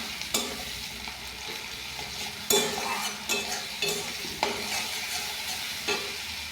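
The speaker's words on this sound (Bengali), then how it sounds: "পেঁয়াজটা ভাজা হতে হতে আমি দিয়ে দিলাম টমেটো।" Onion and tomato fry and sizzle in a pan, with a steady hiss broken by regular scraping and stirring strokes of a utensil, close and moderately loud, with no voices.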